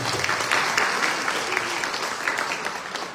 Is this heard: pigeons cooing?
no